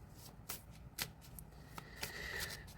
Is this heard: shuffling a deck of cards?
yes